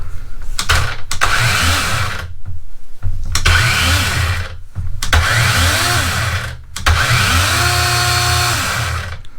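A Dewalt 20V XR 12-inch cordless chainsaw running in repeated bursts, each ramping up through a soft start to a loud full-speed whine and then dropping off during short pauses between triggers.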